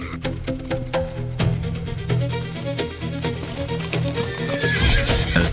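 Zebras gallop as they flee lions, their hooves drumming in a rapid, uneven clatter of overlapping beats, close and loud, with a rising rush of movement toward the end and no voices.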